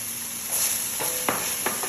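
Chopped onion fries with ground chicken in hot oil, giving a continuous close sizzle broken by a few soft stirring scrapes.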